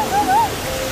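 A waterfall near Tbilisi, Georgia, gives a steady broadband rush of falling water. A brief thin tonal whine rises over it for a moment.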